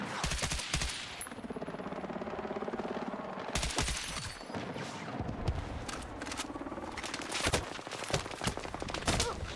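Heavy automatic gunfire from a new tank main gun in Battlefield 6 (Season 3), dense bursts and booming blasts rolling nearly nonstop, loud and close, with a helicopter-like rumble underneath.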